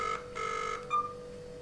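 Short electronic ringing tones from a 9Tong Q90 kids' smartwatch phone, two or three brief beeps in quick succession, fairly quiet.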